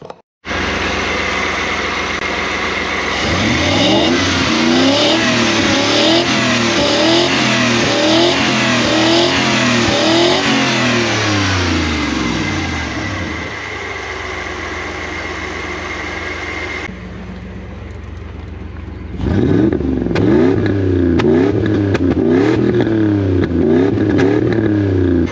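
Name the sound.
Toyota FJ40 Land Cruiser 1UZ engine running and revving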